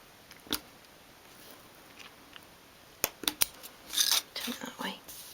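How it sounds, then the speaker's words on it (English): A craft knife cuts a small square out of material for a 1/12 scale dolls' house sink unit, heard as a few sharp close scrapes and slicing strokes, mostly in a cluster near the end after quiet stretches. "this is really just so that our knife doesn't go past either of those lines when we're cutting this square out"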